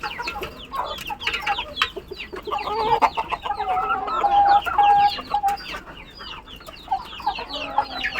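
Domestic chickens cluck and chatter continuously at moderate distance, several birds calling over one another with no talking.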